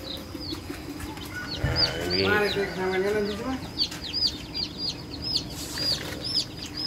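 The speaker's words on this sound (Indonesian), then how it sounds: "nah ini ayam-ayamnya dan mulai menetas semua" Repeated high, thin peeps from newly hatched chickens chirp steadily throughout, with some fluttering and a louder bird call in the middle.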